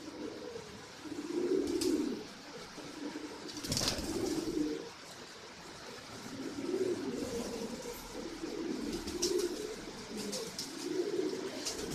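Racing homer and Madrasi pigeons coo in repeated low, throaty bursts, several rounds nearby over the steady hiss of heavy rain, with a brief flutter partway through.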